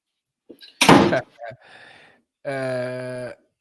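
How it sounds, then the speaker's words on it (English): A door thuds shut once with a loud, close slam, surrounded by brief vocal sounds and followed by a sustained buzzing, humming tone. "Oh, shut the door, brother."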